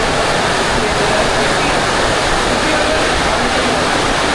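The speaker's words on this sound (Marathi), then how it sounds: "अरे आला पाऊस आला परत मोठा आला रे" Heavy monsoon rain pouring down on a Konkan route toward Mumbai, a loud, steady broadband roar of water that stays dense and unbroken throughout, with no voices over it.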